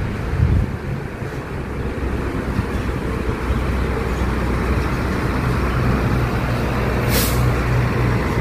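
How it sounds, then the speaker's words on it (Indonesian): A Parwis Jaya Barokah bus passing by at a bus terminal, a steady loud engine and road rumble with a brief sharp hiss of an air brake near the end. "Melintas habis perbaikan bus Parwis Jaya Barokah."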